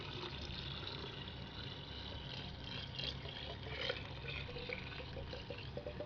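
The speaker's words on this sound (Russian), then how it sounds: "Сейчас дольем 60 градусов воды." Water at 60 degrees is poured into a scaled-up kettle for descaling with acid, a steady, faint, continuous splashing trickle heard close up.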